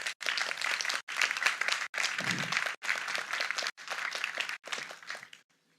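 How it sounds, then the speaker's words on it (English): Audience applauds a panel of speakers at a conference on foreign direct investment, with sustained clapping in several bursts that swell and fade before dying away into quiet. "maybe a lot of applause for this valuable panel once again."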